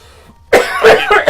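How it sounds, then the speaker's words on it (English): A single harsh, close cough bursts out after a quiet moment, followed by a rough throat-clearing rasp, loud and dry from a man apparently coming down with a cold. "as I get a cough, see,"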